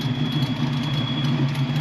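A Ford Mustang Foxbody sits at idle, and its engine gives a steady, low, even hum that carries close by with no revving.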